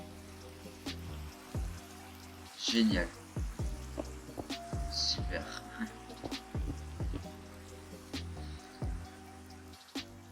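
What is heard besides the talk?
rain falling in Minecraft video game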